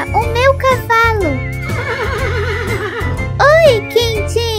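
A toy horse lets out loud, close, repeated electronic whinnies, with warbling rising and falling neighs over a steady musical backing.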